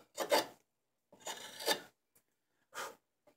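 A spoon knife carves the bowl of a mulberry wood ladle, giving three separate scraping, rasping strokes with short pauses between them, close and fairly quiet.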